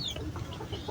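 Gamecock chickens cluck softly in short, scattered bursts at close range, over steady low background noise with no speech.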